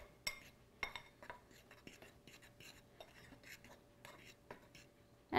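Ingredients for a zucchini potato bake with flour, black pepper and salt are stirred in a bowl, giving soft irregular clinks and scrapes of utensil against dish, close and quiet.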